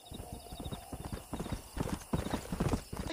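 A stallion's hooves clip-clopping at a steady walking rhythm in the Red Dead Redemption video game, close and continuous, with an occasional faint whinny and soft talk in the background.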